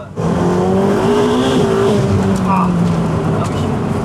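A sports car accelerating hard, engine and turbo rising loud and close with a climbing whine, while someone talks briefly over the roar.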